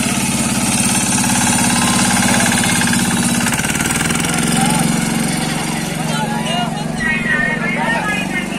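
A loud, rough diesel engine of a homemade jugaad trolley vehicle chugging steadily up close at a farm fair in Meerut, with a shift in its rhythm midway and voices talking over it.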